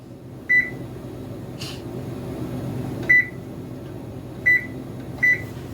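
An oven timer is set to bake condensed milk bread, giving four short high electronic beeps, spaced irregularly, over a faint steady background hum with a brief clunk between them.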